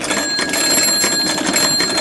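A small bell inside an SG41 cipher machine prop rings in a rapid, continuous metallic trill while the mechanism is wound, bright and close throughout.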